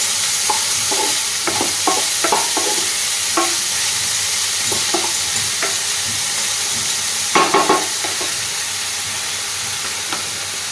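Chopped onion and garlic fry in butter in a pan for a mushroom starter, giving a steady close sizzle broken by scattered scraping stirs and a brief louder clatter of stirring near the end.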